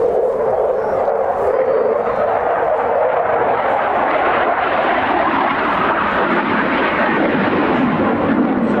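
An Italian Tornado jet on final approach during a NATO anniversary flypast at an airshow, producing a loud, continuous broadband jet roar that holds steady and fills the scene without talk.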